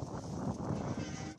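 Goats and rams on a farm in Dnipropetrovsk region bleating, a faint low chorus of overlapping calls heard alone.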